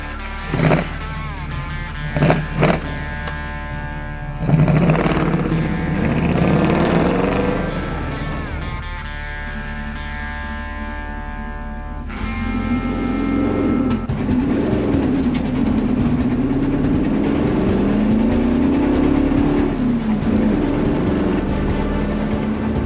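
A classic Ford Bronco engine revs and accelerates from a standstill toward 60 mph, a loud steady drone with rising pitch and some wind and road noise, after a few brief bumps at the start.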